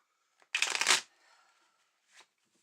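A deck of cards is riffle-shuffled once in a quick, close burst of rapid flutters, followed by a soft slide and a brief tap as the cards settle, otherwise quiet.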